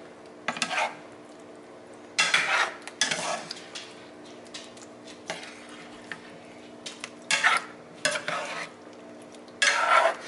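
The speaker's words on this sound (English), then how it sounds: "That's what I meant by kind of flipping them around inside the sauce" Honey garlic glazed meatballs are flipped around in sauce in a pan, giving scraping, clattering utensil strokes in irregular bursts over a soft background sizzle, with no talking.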